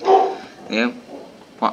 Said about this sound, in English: sorry about my dog. Don't know why she's barking